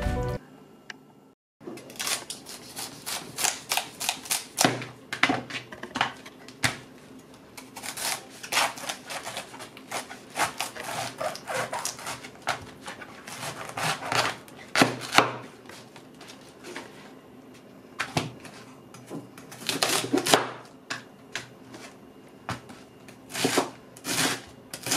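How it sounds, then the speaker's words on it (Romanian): Quick rhythmic knife strokes slicing cabbage on a cutting board, close and crisp, in bursts of rapid chops with short pauses between. "Varza o tăiem într-un alt mod, nu o tăiem exact cum o facem la ciorbe, ca să fie mai ușor de mâncat"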